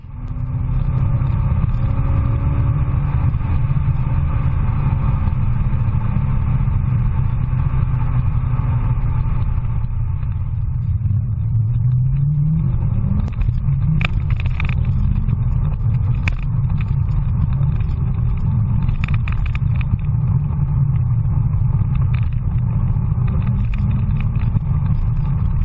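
A Corvette engine rumbles steadily with a deep, loud Billy Boat exhaust drone throughout, briefly revving up midway, and nobody speaks.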